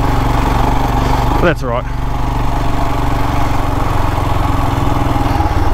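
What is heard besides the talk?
Royal Enfield Himalayan motorcycle engine riding on gravel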